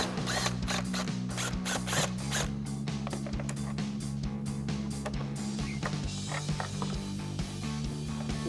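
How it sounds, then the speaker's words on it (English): Ratchet wrench with a 10mm socket on a long extension backing out screws on a RAM 2500 truck's rear bumper area, rapid close clicking bursts in quick repeated strokes, then quieter mechanical rattling. "It's held in place by two 10mm screws, so we've got a 10mm socket and a long extension."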